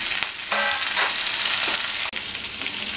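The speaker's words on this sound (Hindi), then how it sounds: "दोस्तों इसको भी हम एक मिनट तक फ्राई कर लेंगे तेज आंच पे" Papaya pieces frying on high flame, a continuous close hiss and sizzle with a brief stir and a short clack near the end.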